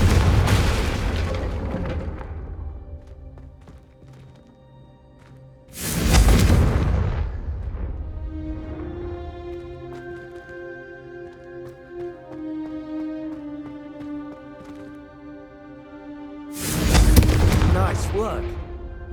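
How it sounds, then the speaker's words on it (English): Two Confringo spell blasts from Hogwarts Legacy erupt as loud, booming fiery explosions about eleven seconds apart, each fading into crackling embers and ringing magical tones, with a voice speaking in between. "a Confringo cast travels a bit farther than that of a spell like Incendio"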